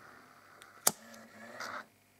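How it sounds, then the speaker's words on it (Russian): A lighter is struck once for a flash: a single sharp, faint click, followed by a brief soft hiss in an otherwise quiet room. "сейчас я делаю вспышку зажигалкой."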